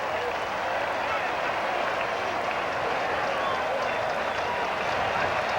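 A Mets home crowd at a 1990 game against the Pirates roars and applauds in a steady, unbroken wash of stadium noise, with a broadcaster likely speaking over it.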